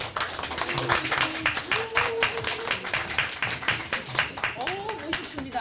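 An audience at a live talk claps after a speaker is honoured with a medal, a lively burst of individual hand claps with voices mixed in beneath it.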